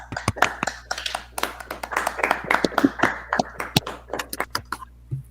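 An audience claps for a speaker at an international congress for English teachers, a short burst of sharp, scattered hand claps from a few people, fairly close.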